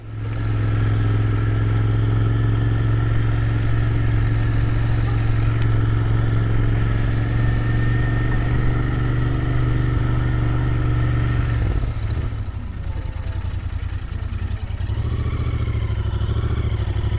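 A Royal Enfield Interceptor 650 motorcycle drones loudly and steadily while riding, its engine note shifting and easing near the end as speed changes, with wind noise mixed in.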